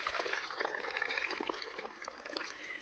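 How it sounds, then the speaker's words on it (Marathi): Irrigation water in a sorghum field trickles and gurgles as it flows down a channel, a faint, close babbling with small splashes. "इथं पाणी कुठं खाली चाललंय बघा आवाज कसा येतो"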